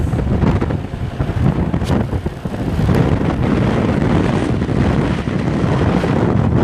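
Strong headwind buffets the microphone during a cycling road race in Belize, a continuous loud rumbling gust roar with no voices.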